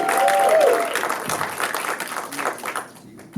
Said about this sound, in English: can I have a round of applause for the cast and crew of Fresh Air?